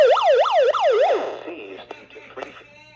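Warbling alert siren from a Discovery Channel BD4772 weather radio, loud and close, rising and falling rapidly about five times before cutting off, followed by faint handling clicks.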